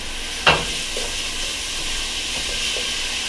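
Garlic sweating in a pot for a Peruvian hen soup gives off a steady soft sizzle and hiss, broken near the start by a sharp stirring clink and a few light scrapes, with no voices.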